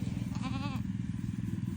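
A newborn goat gives one short, quavering bleat, fairly faint over a steady low rumble.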